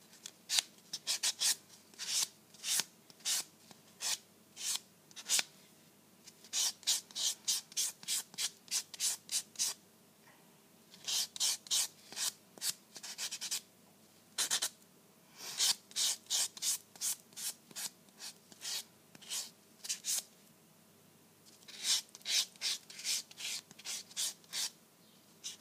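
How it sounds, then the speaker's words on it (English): Nail buffer rubbing across gel nails in quick, close bursts of scratchy strokes, grouped in short runs with brief pauses between them, soft and intimate. "that's all the buffing done"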